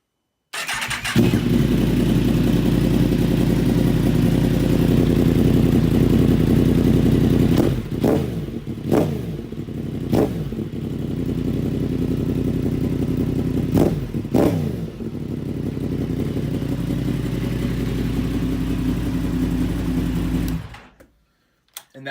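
A 2017 Yamaha FZ-10/MT-10 motorcycle with a Two Brothers SR1 exhaust, cat delete and silencer idles loudly and steadily, broken by several sharp throttle blips in quick succession, then cuts off at the end.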